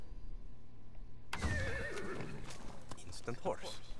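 A horse in Far Cry 6 whinnies loudly in a rising, wavering call, joined by hoof clatter and a voice speaking over a steady game-like background.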